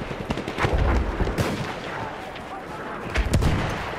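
Martini-Henry scoped rifle shots in Battlefield 1, sharp loud cracks with booming tails that recur across a few seconds, set against distant battle noise.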